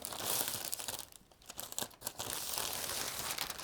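An old plastic supermarket shopping bag crinkles and rustles close up in irregular bursts, with one brief lull partway through.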